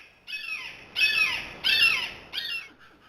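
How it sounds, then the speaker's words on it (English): A Steller's jay gives four harsh, rasping squawks in a row, each about half a second long and evenly spaced, loud and close with no other sound around them. "stellar jays often raise Cain with thirsty visitors."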